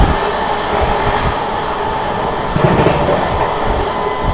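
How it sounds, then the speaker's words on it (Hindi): The 22436 New Delhi–Varanasi Vande Bharat Express passes close by as a loud, steady rush of train noise with rumbling wheels, heard from on board another train, rising slightly partway through. "दोस्तों सामने से आ रही है 22/4/36 नई दिल्ली वाराणसी वंदे भारत एक्सप्रेस।"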